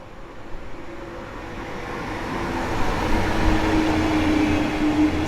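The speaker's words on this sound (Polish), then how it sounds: "Przy peronie 7 wjeżdża pociąg osobowy przyspieszony Wiedenka" A Wiedenka accelerated passenger train pulls in at platform 7 at Warszawa Zachodnia, a steady rising rumble of wheels and carriages with a faint squeal of brakes, loud and close, without speech.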